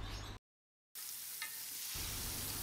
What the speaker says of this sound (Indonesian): cara membalur ayam yang baik dan benar, yaitu mengaduk dengan cara ringan dan pelan